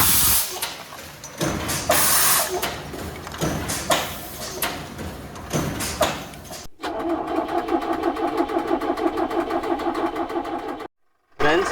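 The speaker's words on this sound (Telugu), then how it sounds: "కిక్కర్ కొట్టి సెల్ఫ్ కొట్టుకుంటే స్టార్ట్ చేసాం" A truck engine is started with the kicker and self-starter on a roadside stop between Vijayawada and Vizag, bursts of hissing noise giving way to a loud, steady rhythmic engine chug, with voices talking over parts of it.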